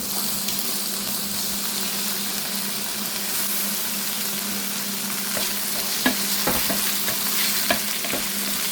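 Mixed seafood and mushrooms sizzle and fry steadily in a Salad Master pan, a loud continuous hiss with a few soft clicks and stirring knocks toward the end.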